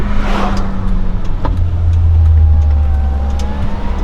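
The power rear window of a 1990 BMW 325i convertible lowers with an electric motor whine lasting about two seconds, set against a low background rumble.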